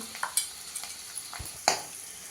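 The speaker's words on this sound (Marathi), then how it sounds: "आता हे आपण जे जाडं बरडं वाटून घेतलं आहे तेही घालते मी तेलावरती" Coarsely ground chilli and cumin mix hitting hot oil, with a soft sizzle and a few scraping stirs of a spoon in the pan, quiet and close, with no one talking.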